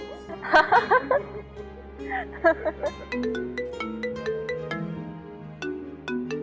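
A mobile phone ringtone plays a repeating melodic tune in a home during a Pakistani fantasy drama scene, following bursts of voices and light laughter at the start.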